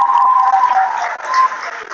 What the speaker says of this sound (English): Please, can you give them a round of applause?